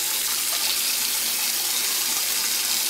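A sink faucet runs steadily at home while dishes are washed, a close, continuous hiss of flowing water with no voices.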